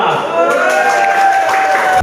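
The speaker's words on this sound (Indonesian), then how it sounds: "Tepuk tangan untuk kelompok 2" A classroom group claps and cheers for the winning group in a history video contest, a dense burst of applause mixed with whoops and children's shouts, loud and close, cutting off sharply at the end.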